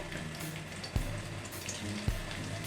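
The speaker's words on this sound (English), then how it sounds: "refined oil is now hot, and now add 1 teaspoon kala seeds, means black cumin" Black cumin seeds sizzling in hot refined oil, a steady crackling hiss of frying with two soft knocks, close and alone without talk.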